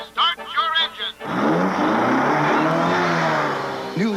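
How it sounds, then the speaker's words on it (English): A car engine cranks to life and revs hard in a TV commercial, a sustained loud roar that follows a few seconds of talk and then runs on alone. "Gentlemen, start your engine."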